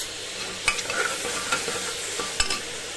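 Turmeric is stirred into onion softening in hot oil, making a continuous close sizzle broken by three or four sharp clacks and scrapes of the spoon against the pan.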